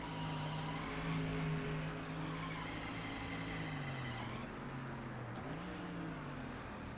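A NASCAR race car in NASCAR Thunder 2004 slows toward the pits, its engine droning steadily then pitch sliding downward as it decelerates, loud and close throughout with no talking.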